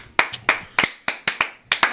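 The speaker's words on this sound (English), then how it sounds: "That deserves a real hand clap." Close, crisp hand claps ring out about eight times in a fairly even rhythm with short gaps, each a sharp slap that decays quickly, with no one talking.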